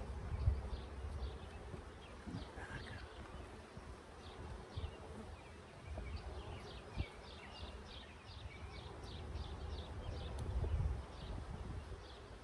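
A swarm of honey bees hums around a hive, a dense, steady buzzing drone that stays close and continuous, with faint bumps and handling noises underneath.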